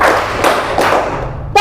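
A classroom of seventh-grade pupils clapping together in a counted ice-breaking game, three loud massed claps at steady intervals, nearby and roomy, with a brief voice at the end.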